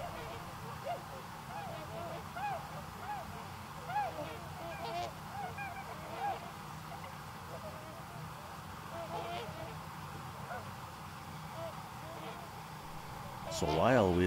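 Trumpeter and tundra swans call in a steady chorus of honking from a flock on the water in Wisconsin, heard under a voice talking throughout, with a louder burst of calls near the end.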